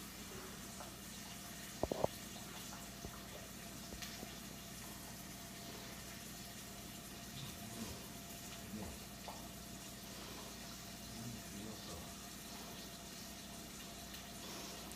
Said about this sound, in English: let me get the strainer ready because we are gonna strain the spaghetti